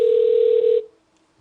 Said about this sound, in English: Let's let it ring once or twice here